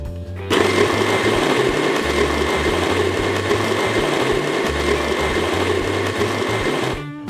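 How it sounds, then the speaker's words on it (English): An electric grinder whirring through coffee beans on a coarse setting, a loud, close, steady motor drone with a buzzing rattle that starts abruptly and cuts off just before the end. "Done grinding the coffee. Got that nice, coarse, even grind."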